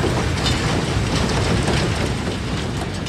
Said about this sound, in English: Marshal Foch's special train enters the station of Compiègne